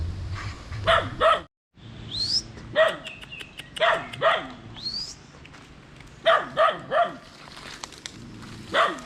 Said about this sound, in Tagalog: nakainkultro na naman po tayo ng aso